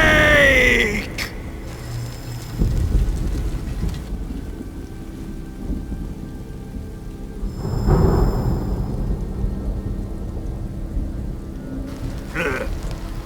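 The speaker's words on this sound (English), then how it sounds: "Who's afraid of a little thunder?" Thunderstorm in the video game Metal Gear Solid Delta: steady rain hiss with a deep rolling thunder rumble swelling in the middle, under a low ambient bed and occasional effects.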